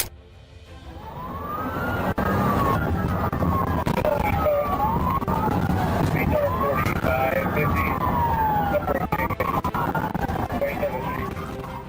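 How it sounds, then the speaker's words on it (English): A police siren wails up and down in repeated sweeping cycles, loud and steady, with traffic rumble underneath. "The sirens blared, but Lamb still sped off."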